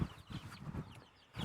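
About thirty young chickens cluck and murmur inside a chicken tractor fitted with roost bars, a steady close chorus of overlapping low clucks and scratchy movement with no voices.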